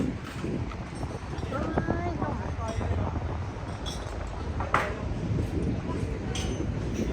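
Steady wind buffeting a microphone outdoors near a market, a continuous low rumble through the whole stretch with a faint clink partway in and no clear speech.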